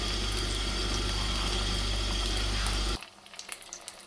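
Chicken macaroni pockets frying in hot oil give a loud, steady, close sizzle for about three seconds, then it cuts off abruptly to near quiet with a few small clicks and taps.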